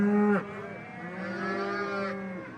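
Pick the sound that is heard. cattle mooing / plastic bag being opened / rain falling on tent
cattle mooing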